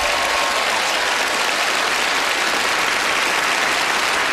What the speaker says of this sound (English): A warm round of applause will follow you up here.